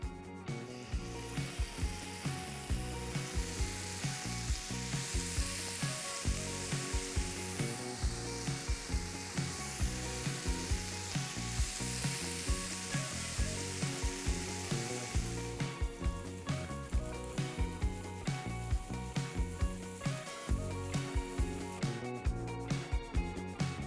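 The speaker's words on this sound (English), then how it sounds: "As the oil starts to heat up, we'll start pan frying the fish." Continuous sizzle of pomfret frying in oil, with a dense crackle and a busy rhythmic clatter layered through it, steady for the whole stretch.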